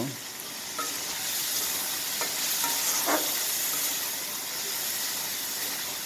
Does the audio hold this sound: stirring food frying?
yes